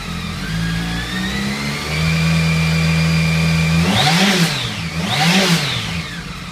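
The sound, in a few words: BMW K1200 motorcycle engine revving in a garage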